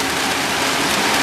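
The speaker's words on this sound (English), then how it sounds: "Yep, rain everywhere, water everywhere" Heavy rainy-season rain in Mexico pours down in a dense, continuous hiss, loud and close, with no voices.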